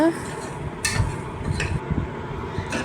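A metal spoon scrapes and knocks against a cooking pot as prawn biryani is stirred, with irregular clinks and shuffling, close by.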